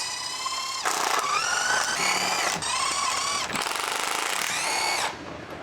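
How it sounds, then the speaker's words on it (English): A large electric impact wrench with a long 19mm socket removes the rear wheel lug nuts on a Ford Explorer, several loud, close bursts of whirring, hammering rattle, each lasting about a second, separated by brief breaks. "Using the large 19mm long socket, with the large electric impact wrench, remove the left rear wheel lug nuts."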